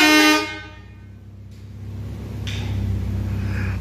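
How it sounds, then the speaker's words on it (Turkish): Fast-mode Arab musical horn fitted to a Fiat Tipo 1.6 SLXie, a short loud harmonic blast followed by a steady idling engine rumble with faint clicks, recorded close up beneath a building. "Bu da Arap kornanın hızlısı."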